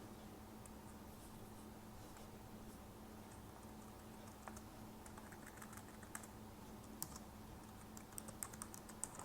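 Quiet, close typing on a computer keyboard while entering Linux commands, with scattered soft key clicks that grow busier toward the end over a low steady hum.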